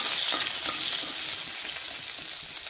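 Garlic frying in hot salted oil, a steady close sizzle with bright crackling spits and the occasional stir, going on for the whole stretch with no voices.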